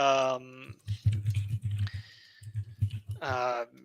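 Rapid, uneven clicking of computer keys typed nearby, with a voiced sigh or groan at the start and end.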